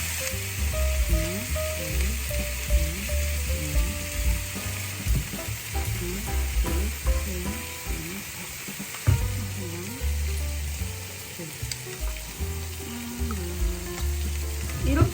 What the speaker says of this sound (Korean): 우선 여기다 삼겹살 좀 구울게요.